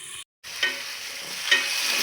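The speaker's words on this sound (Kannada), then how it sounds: "ಆನಿಯನ್ ಎಲ್ಲ ಟ್ರಾನ್ಸ್ಲ್ಯೂಸೆಂಟ್ ಆಗೋವರೆಗೂ ಫ್ರೈ ಮಾಡ್ಕೊಳ್ಳೋಣ ಎಣ್ಣೆಯಲ್ಲೆಲ್ಲನೂ" Onions fry in oil in a pan for a pumpkin sabji, giving a close, steady sizzle that breaks off briefly and then returns. Soft stirring scrapes sound twice above the hiss.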